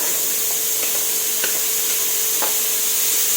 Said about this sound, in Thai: หลังจากนั้นใส่ถั่วฝักยาวลงไปค่ะ